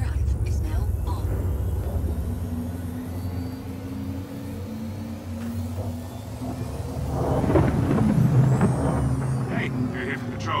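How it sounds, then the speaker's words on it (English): Quantum drive of a Hornet F7C ship in a space video game, a steady low engine drone and hum that swells louder toward the end, with speech over it. "Quantum drive is now on."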